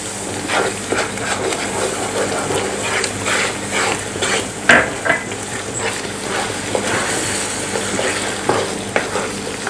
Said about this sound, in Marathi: आता उकळी आल्यानंतर आपण एका हाताने रवा घालूया आणि दुसऱ्या हाताने याला मिक्स करून घेऊया